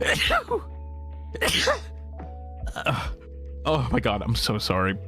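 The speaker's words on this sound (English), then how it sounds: "I don't know where that sneeze just came from." A single sudden sneeze bursts out near the mic during a casual drawing stream, followed by a sharp breath and a flustered, apologetic voice speaking right after.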